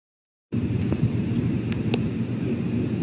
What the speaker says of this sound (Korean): 바람 소리 정도 나는데